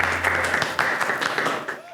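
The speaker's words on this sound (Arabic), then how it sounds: "تصفيق." Brief applause at an honoring ceremony during a festival: a couple of seconds of close, dense clapping that fades at the end, blended with voices.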